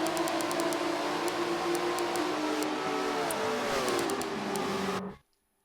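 Prototype race cars run at Road America in a racing video game. A loud, continuous engine drone rises and falls through gear changes, with faint periodic ticks, then cuts off abruptly to silence.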